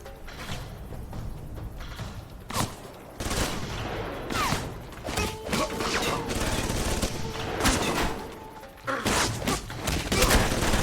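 Gunshots in the video game Alpha Protocol, a long run of repeated cracks and bursts with occasional thuds and crashes, loud and close, with a few faint voices mixed in.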